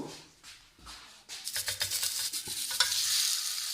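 Chicken patty lowered into hot frying oil, quiet scraping at first, then a rising, steady crackling sizzle that grows louder and stays close, with no voices.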